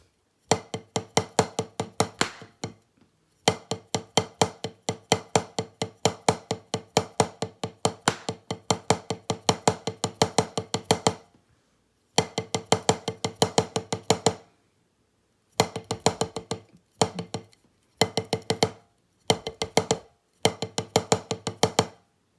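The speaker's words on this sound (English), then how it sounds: "Just simply a single stroke roll with the Moeller technique" Hand-to-hand single stroke roll on a drum played with the Moeller technique, fast even strokes in long bursts with short pauses, getting choppier toward the end, close and alone.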